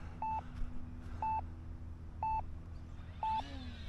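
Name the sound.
alarm going off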